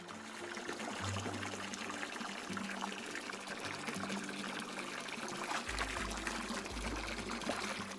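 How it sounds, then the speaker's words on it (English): Water pouring steadily to rinse soap from hair during a bath, a continuous close splashing gush and trickle with slight shifts in flow, no voices. "Let's rinse the soap off."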